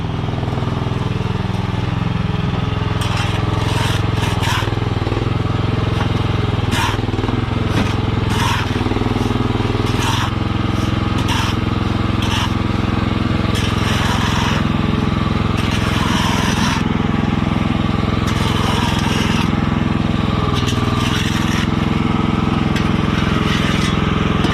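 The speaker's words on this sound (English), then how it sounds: "coming for the last scoop of sand. Last little bit, couple of shovels full." Engine of a Chinese mini skid steer scooping sand, a loud, steady motor drone running throughout with intermittent clanks and scraping of the bucket, close by.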